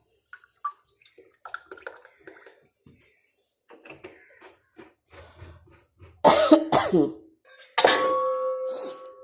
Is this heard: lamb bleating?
no